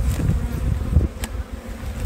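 Honeybees hum around an open hive during an inspection, a close, steady low buzzing drone that rises and dips slightly, with no talk.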